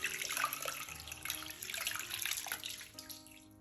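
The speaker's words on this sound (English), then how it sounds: "we wanna add cold water into the Cucates" Cold water runs from a tap into a Staub cocotte holding corned beef, a quiet steady splashing stream that shifts in pitch as the pot fills.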